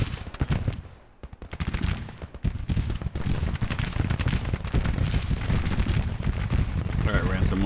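Dense rolling rifle fire from Civil War cavalry in the strategy game Grand Tactician, crackling continuously and loud for several seconds with only a brief dip, under a bed of battle noise.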